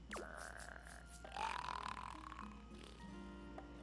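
Guttural zombie groans and belching grunts from the video game Date Everything, a rough, gurgling vocal run lasting a few seconds with a louder swell in the middle, heard alone without talk.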